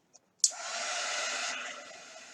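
A hair dryer switches on with a sharp click and blows steadily and close for about two seconds, drying chalk paste on a craft project before easing off slightly.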